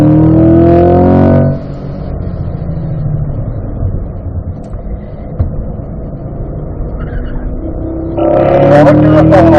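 A car accelerating on a racing track, its engine a steady close drone through the middle, with someone talking briefly before and after.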